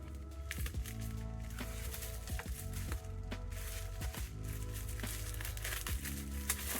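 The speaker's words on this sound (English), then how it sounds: "I'll try to cut this open." Plastic-wrapped boxed Namco Famicom games, three stacked together, being cut open, with soft crinkling and scraping and a few sharp ticks of the blade over a steady low hum, close and quiet.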